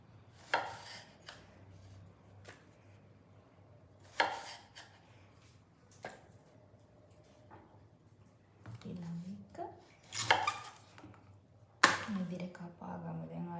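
A knife chops brinjal on a board in sparse, crisp strokes spaced a couple of seconds apart, followed by a denser cluster of louder cuts and handling noises.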